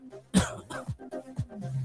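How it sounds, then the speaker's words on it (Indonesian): A man in a podcast discussion coughs in a loud burst followed by several smaller throat-clearing coughs in an uneven run, close to the microphone with no speech over them. "sampai batuk-batuk"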